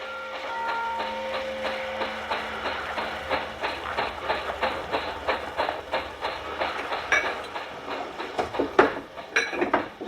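A train standing at a station terminus gives off a steady run of rhythmic clicks and clacks, fairly quiet, with a few sharper knocks near the end and no voices.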